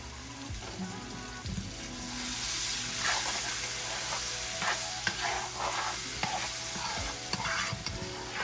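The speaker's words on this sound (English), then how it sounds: "Now we're going to fry the onions and the green peppers." Onions and green peppers frying in pan drippings left from browning chicken, a steady close sizzle with bursts of hiss and intermittent spatula stirring scrapes throughout.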